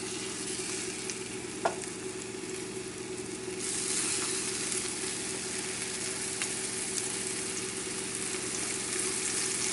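Filet of sole set skin side down in a hot pan, a steady close frying sizzle that holds evenly throughout and swells slightly partway, with a faint low hum and no voices.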